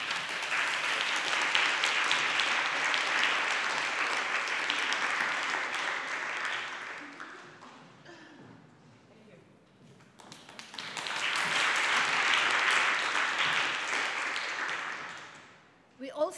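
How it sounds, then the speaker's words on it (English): An award ceremony audience claps in two sustained rounds of applause, separated by a brief quiet lull, at moderate distance in a hall. "Applause, please."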